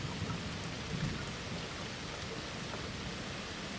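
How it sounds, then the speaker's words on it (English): Steady rain falls in a dense, even hiss with soft patter on surfaces, constant and enveloping with no voices. "drift off to sleep with my voice over the soothing sound of rain"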